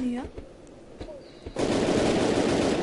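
Gunfire in a shooting video game: a few sharp shots, then a sustained loud burst of rapid automatic fire.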